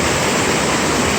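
Waterfall on the Daniels Cove branch in the Shining Rock Wilderness, North Carolina, a continuous broad rushing roar of falling water, steady and loud with no voices.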